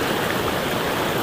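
Cold river water pours into a hot spring in the Sumatran rainforest, a close, full rushing and gurgling flow that stays steady and loud through the short moment.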